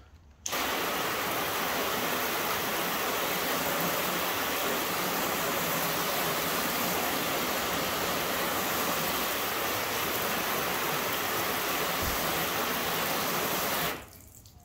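A steady rush of water spraying over a car coated with graphene or ceramic spray during rinsing, a loud, broad hiss that starts abruptly, runs unbroken for about thirteen seconds, then cuts off.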